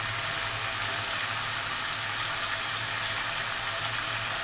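Hot water poured into a Bengali tilapia fish curry (machher jhal) in the pan, a steady, continuous watery rush that keeps an even level from start to finish with no voices.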